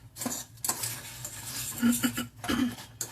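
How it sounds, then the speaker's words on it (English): Crackers being stirred into melted butter in a pan, with soft scraping and clinking of a utensil against the pan in short uneven bursts, plus a brief cough. "Then we're going to stir in our crackers. And get them coated in the butter."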